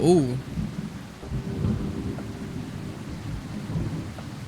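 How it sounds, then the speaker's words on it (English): A loud thunderclap opens, then a low rumble rolls on under steady rain hitting a surface, in the video game Coffee Talk. "that was a really loud thunder"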